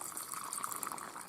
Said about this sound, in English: And then I add hot water from my kettle.